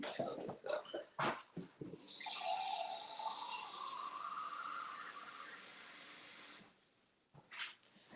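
Tap water runs steadily for several seconds to fill a Keurig coffee maker's reservoir, a close hissing stream that follows brief handling sounds and then stops with faint knocks afterward.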